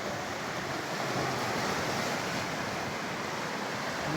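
Steady rush of rough sea waves and surf at Laiya beach, San Juan, Batangas, continuous and fairly loud, with wind buffeting the microphone and no voices.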